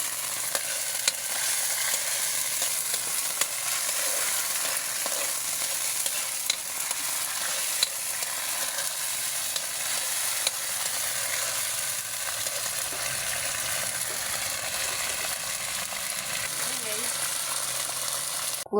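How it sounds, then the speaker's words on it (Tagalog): Sardines and udong noodles sautéing in a pan, a steady close sizzle and frying hiss with occasional stirring scrapes running without pause throughout. "naggisa na ako ng sardinas at lalagyan ko na po siya ng udong"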